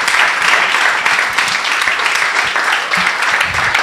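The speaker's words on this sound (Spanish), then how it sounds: "Démosle un aplauso, por favor, al doctor." A conference audience applauds as a civil engineering speaker is introduced at a university session, with dense, steady clapping that stays loud through the whole stretch.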